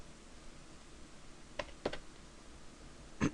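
A few quiet computer keyboard keystrokes tap out a number, soft isolated clicks spaced apart over a faint background hum.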